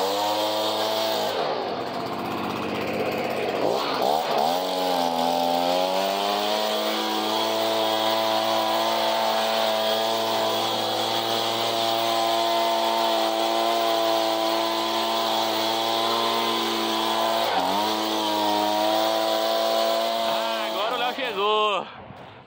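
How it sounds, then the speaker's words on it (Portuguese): A chainsaw drones steadily at high revs for a long stretch at a scrapyard after a windstorm, its pitch dipping and rising a few times, loud and close. "Com a motosserra."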